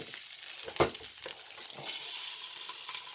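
Sucuk slices fry in a pan, a quiet steady sizzle with a brief scrape or tap of a utensil near the start.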